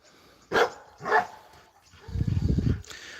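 A Jack Russell terrier barks twice in quick succession, sharp and close, followed by a low rumbling growl-like sound.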